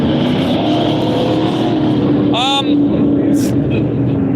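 Super trucks race at Vado Speedway, a loud, continuous engine roar with a brief rising pitch sweep as one passes, heard close and steady throughout.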